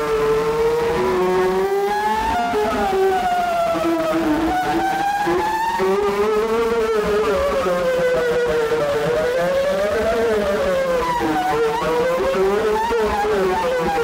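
A continuous, wavering tone from a Behringer 2600 analog synthesizer in feedback, rich in harmonics, its pitch sliding up and down in slow sweeps, steady and loud throughout.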